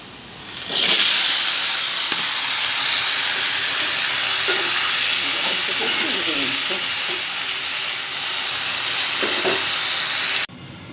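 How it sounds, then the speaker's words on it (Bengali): Potatoes coated with turmeric and salt fry in hot oil, giving a steady, loud, close sizzle that holds for about ten seconds, with a few faint stirring clicks scattered through it. "এখন আমি আলুটাকে একটু ভেজে নেব"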